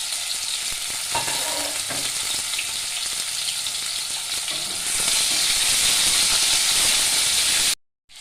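Cut potatoes and green chili fry in a pan for a spinach dish. A constant sizzle swells louder midway and then cuts off abruptly near the end.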